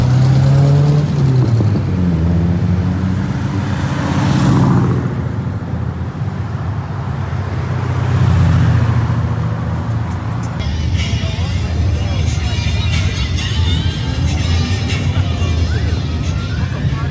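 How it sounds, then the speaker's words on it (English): Cars rumbling past at a large Woodward car event, loud engine noise swelling and fading as vehicles pass close by, with crowd and traffic din continuing underneath. "So I'll show you some videos as some cars drive by."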